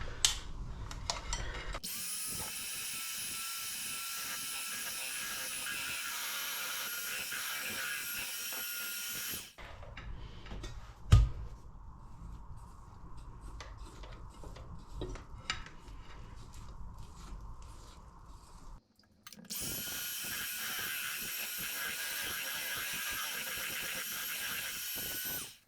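An electric hand whisk beats a large quantity of batter for toad in the hole, running in long loud whirring bursts. A quieter mechanical stretch sits between them, with an abrupt stop and restart.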